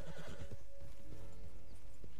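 A horse neighs and whinnies with clopping hooves in the online western game Red Dead Online, an agitated snorting horse close up with several hoof beats and no talk over it.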